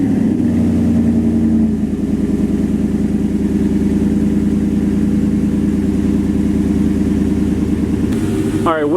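Truck with a $250 Flowmaster single-in, dual-out exhaust idling loudly up close, a deep steady rumble with a brief rev shift near the start and a quick blip at the end.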